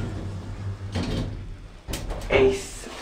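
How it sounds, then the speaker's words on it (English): Elevator doors slide shut in an old town-centre lift, a brief broadband rumble and rattle of moving doors followed by a clunk as they close, heard close by over a low machinery hum. "Doors closing."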